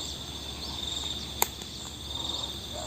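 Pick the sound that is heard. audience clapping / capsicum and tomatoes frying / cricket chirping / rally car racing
cricket chirping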